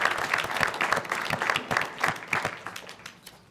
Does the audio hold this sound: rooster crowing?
no